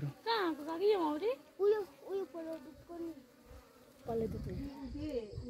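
Honey bees buzz during a honey harvest, a steady hum beneath people talking nearby.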